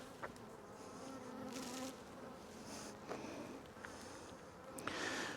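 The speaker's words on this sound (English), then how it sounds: "9 frames full of bees" Honey bees fill a hive box of nine frames with a dense, continuous buzzing hum close by, broken by a few soft knocks and rustles of handling.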